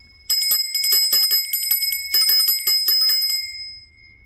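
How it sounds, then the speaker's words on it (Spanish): A small hand bell rings rapidly and continuously for about three seconds to open a lesson, bright and close, with short pauses between bursts and no voices. "Ya nos hicieron sonar la campanilla para iniciar nuestra lección en el día de hoy."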